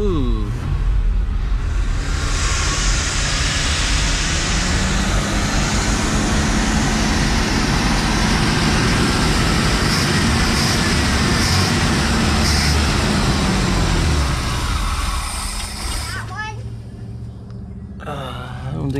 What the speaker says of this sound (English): So we'll see if I got my eyeball timing kind of close or what.